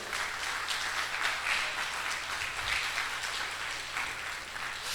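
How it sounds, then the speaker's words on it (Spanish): A church congregation claps for the Lord during a Friday evening service, a sustained, even roar of applause from many people, fairly distant and unbroken for the whole stretch. "Denle un aplauso al Señor."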